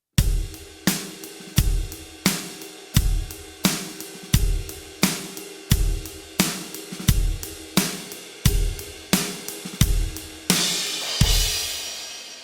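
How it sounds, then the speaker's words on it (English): Beginner drum kit groove laying down a steady eighth-note money beat on the ride cymbal, with punchy kick and snare hits in a tight repeating pattern and a crash-like wash near the end, no talking. "So the gold version of the money beat would sound like this"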